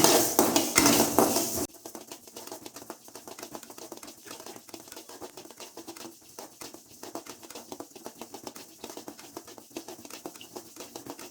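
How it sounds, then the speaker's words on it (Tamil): Small amounts of rice roasting in a pan for puffed rice, sharp dense crackling and popping scattered all through, with a louder burst of clatter at the very start. "நம்ம அரிசியை கொஞ்சமாக போட்டு வறுத்தானா நல்லா பொரியும்"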